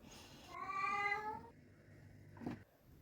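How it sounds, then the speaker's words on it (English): A cat lets out a long, clear, drawn-out meow indoors at moderate volume, followed a moment later by a shorter, lower second call, with no talk. "there goes the cat making his feelings known"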